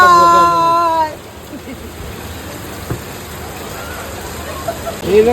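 Heavy rain pours down outside a shop during a downpour, a steady broad hiss filling the scene, with a brief voice at the start and occasional drips and knocks.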